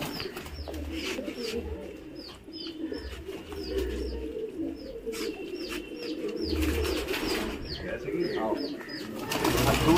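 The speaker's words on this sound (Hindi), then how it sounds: "ये हमारे कबूतर हैं, कल्दुमे सफेद।" White Kaldume pigeons coo steadily in a loft, soft repeated calls overlapping under a busy background hum, with a few chirps mixed in.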